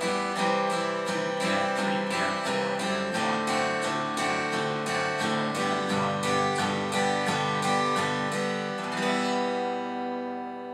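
A beginner's guitar strums a steady chord progression in a repeating rhythm pattern, each stroke sharp and evenly spaced, close and loud for about nine seconds before the last chord rings out and fades.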